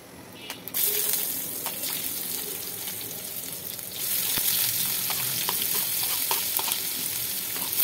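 Two cups of chopped onion and four tablespoons of chopped garlic drop into hot oil, setting off a loud, steady sizzle with stirring scrapes and small clatters, close by and without voices.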